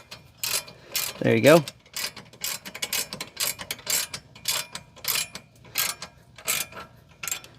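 Socket ratchet driving a bolt into an IAG Rock Armor rear shock skid plate, a run of crisp, evenly spaced clicks close by, with a brief voice partway through.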